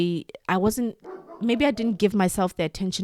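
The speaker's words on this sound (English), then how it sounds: "Sorry guys, that's my dog." A pet dog barks in a few short yips behind someone talking steadily, the barks close by but partly buried under her speech.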